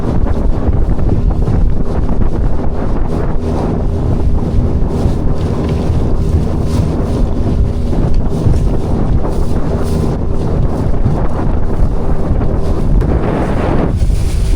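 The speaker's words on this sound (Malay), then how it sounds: "Macam angin kat Bagan Lalang tempat ni." Strong wind roars across the microphone by a lakeshore, a loud, continuous buffeting rush with gusty surges and no talk throughout.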